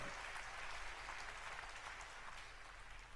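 An audience at a conference applauds continuously, a faint, dense patter of many clapping hands heard from a distance, steady throughout with slight swells.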